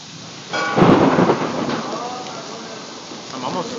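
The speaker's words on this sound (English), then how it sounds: "Oh, that lightning." A thunder crash from lightning during a rainstorm, heard through a window: one loud rumbling burst that fades slowly over steady rain, with a fainter rumble near the end.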